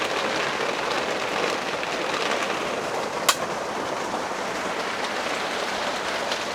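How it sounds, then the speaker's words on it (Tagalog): Heavy rain pours steadily beside a cement wall and fence, a dense, even hiss throughout with one brief sharp tick midway. "Lakas ng ulan."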